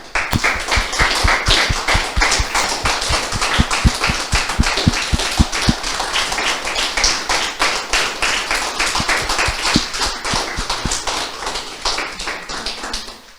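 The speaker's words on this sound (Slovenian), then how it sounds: "In zato si zasluži res onak aplavz." Audience applause at the opening of a painting exhibition, a dense, steady burst of many hands clapping close by that runs for over ten seconds before thinning out at the end.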